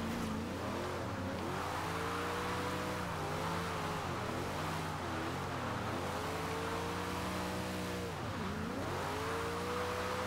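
A Dodge Charger Daytona on street tires in Forza Horizon 2 spinning its wheels, the engine holding a loud steady drone with repeated rising and falling revs, layered over continuous tire roar.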